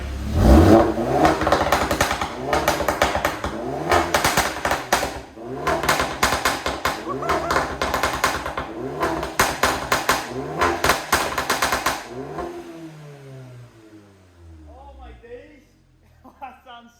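A loud engine revs repeatedly in sharp bursts with crackling pops, up close, then drops away to quieter talking at the end.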